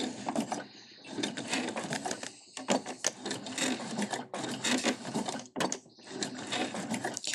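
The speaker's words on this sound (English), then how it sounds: "Make sure to backstitch at the beginning." A sewing machine stitches clear vinyl for a bag, running in close, loud bursts of rapid needle chatter with brief pauses between runs as it backstitches.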